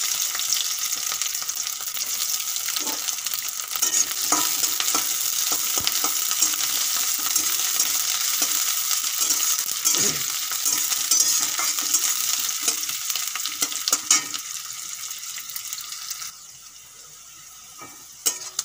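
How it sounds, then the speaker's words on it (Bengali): Chopped onion and crushed garlic fry in a pan, giving a steady close sizzle with occasional stirring scrapes and clicks that carries on for over fifteen seconds before thinning out near the end. "পেঁয়াজ আর রসুন একটু ভাজা করে নিয়েছি"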